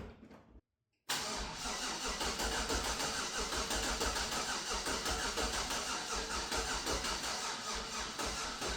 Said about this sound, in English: We're gonna crank it over for a little bit and prime the oil